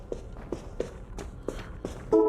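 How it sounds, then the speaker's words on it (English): Footsteps in a video game, a steady run of about six evenly spaced soft steps at moderate loudness, ending in a brief tonal game sound. "I heard footsteps."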